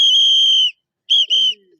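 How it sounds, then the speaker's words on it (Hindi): A whistle is blown at a political rally in Haryana, two shrill tones: one long blast, a pause, then two short blasts. "चलो सीटी बजा दो।"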